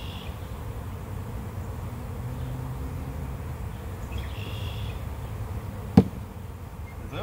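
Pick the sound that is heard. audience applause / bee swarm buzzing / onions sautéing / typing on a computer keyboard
bee swarm buzzing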